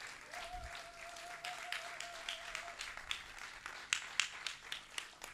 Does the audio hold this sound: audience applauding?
yes